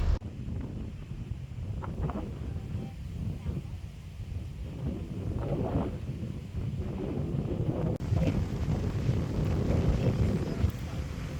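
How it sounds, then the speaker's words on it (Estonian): Strong, cold wind gusts at a beach and buffets the microphone in a constant low roar that swells louder toward the end, with voices faintly underneath. "Selline tuul ja nii külm"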